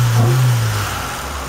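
Stroked LS/VTEC Acura Integra engine revving up once, a strong low drone that rises then eases back down over about a second and a half, loud and close with no talk.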